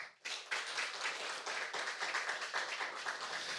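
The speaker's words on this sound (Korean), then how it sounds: "우리 찬양팀에도 박수 한번 주세요" A church congregation claps for the worship team, applause bursting in after a brief silence and continuing as a dense, even wash of hands at close range.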